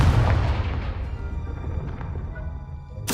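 A Confringo fire-blast spell from Hogwarts Legacy detonates as a loud, booming explosion with a rumbling tail that fades over a few seconds before a sharp new burst at the end.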